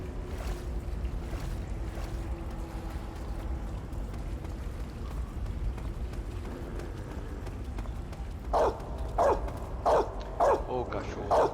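A dog barks five times in quick succession in the Metal Gear Solid 3: Snake Eater game, loud and close near the end, after a stretch of ambient rumble with a faint voice.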